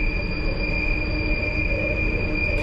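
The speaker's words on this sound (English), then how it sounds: "there's been issues with the wheel screeching" A London Underground Piccadilly Line train on a tight curve gives off a sustained, piercing high wheel screech in two steady tones over a low rumble of running gear, loud and continuous from start to end.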